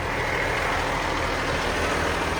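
An International truck's diesel engine runs steadily at close range, a broad continuous rumble with no pauses and no voices over it.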